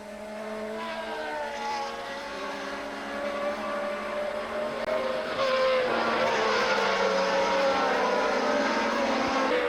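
1979 Formula 1 race cars dueling on track, engines rising and falling in pitch as they pass, loud and close with the roar building in the second half.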